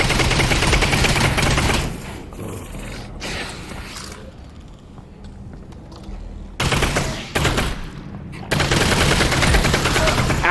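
Rapid bursts of SMG gunfire in the video game Half-Life: Alyx, loud and close, alternating with quieter stretches of mechanical clanks and creaks before the shooting resumes.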